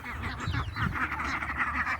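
Ducks quack in soft, rapid overlapping bursts, a small flock close by chattering continuously at low volume.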